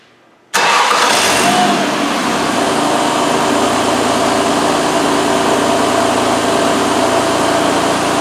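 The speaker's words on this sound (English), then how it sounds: "Let's go ahead and start it." A Ford Escape with an idle air control overspeed fault (P1506) cranks and catches after about half a second of quiet, then settles into a loud, even, continuous idle close by.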